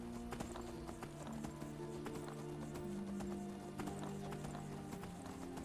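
Horse hooves clip-clopping steadily in Skyrim, a fantasy video game, as the horse climbs a long stone stairway; the rhythmic hoofbeats run continuously at moderate volume with occasional whinny-like tones and game ambience underneath.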